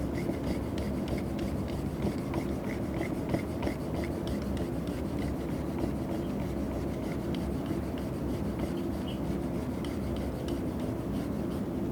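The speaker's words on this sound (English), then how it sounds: "we need to grind on this side a bit more" A hand tool grinds a ceramic piece level in a pottery studio, giving a steady, continuous close rasping and rubbing with no pauses and no talk.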